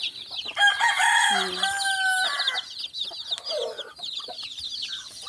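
Chickens on a rural farm at feeding time, with a rooster crowing loudly up close over steady clucking and chirping from the flock, the calls overlapping in busy bursts throughout.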